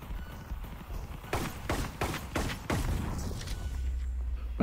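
Gunfire from the VR shooter Sweet Surrender comes as a quick series of about six sharp, loud shots close together, with game ambience filling the gaps.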